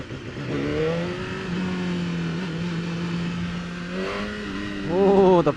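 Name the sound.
BMW motorcycle accelerating on race track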